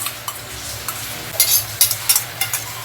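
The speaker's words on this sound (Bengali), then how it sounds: "দইটা ঢেলে দিলাম।" Three-quarters of a cup of whisked sour yogurt poured into a hot pan of prawn bhuna masala, giving a soft fry that swells into louder, irregular sizzling bursts as it hits the oil.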